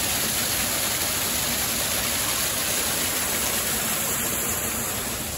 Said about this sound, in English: it's this really cool layered waterfall